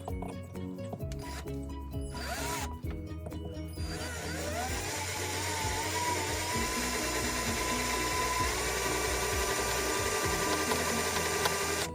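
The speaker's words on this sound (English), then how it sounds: "Let's see if we can drill through this." A power drill whines steadily, grinding into metal for knife making, with a few sharp mechanical bursts at the start and a rising pitch as it bites.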